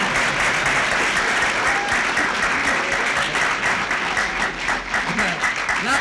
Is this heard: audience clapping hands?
yes